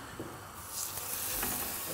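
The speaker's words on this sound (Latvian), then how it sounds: "cepējam gaļu, liekam visu uz šķivas" Meat frying in a pan, a steady close sizzle and crackle that grows denser and louder after the first half second, with faint stirring scrapes and no talk.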